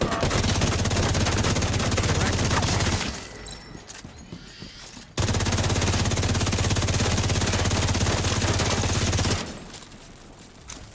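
Sustained machine gun fire in a video game, a loud dense rattle of rapid shots lasting several seconds, breaking off briefly and then resuming at full intensity before cutting back to quieter background.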